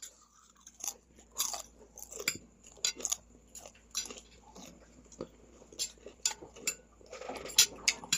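People eat pinaksiw with cucumber: cutlery clinks and scrapes against plates, with crunchy chewing, in short irregular bursts over a quiet background.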